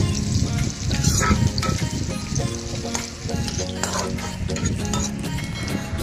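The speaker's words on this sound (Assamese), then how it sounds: "পিঁয়াজখিনি ধুনীয়াকৈ ভাজি হৈছে" Onions frying in a pan with green chillies as they brown, a spoon stirring steadily through a dense, continuous sizzle, close and loud with scraping clicks against the pan throughout.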